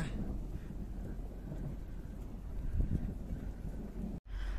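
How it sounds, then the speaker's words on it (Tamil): Low thunder rumbles during rain near a dam in Oman, mixed with steady wind buffeting the microphone and swelling slightly in the middle before a brief dropout. "இட்டிலாம் இடிக்குதுங்க."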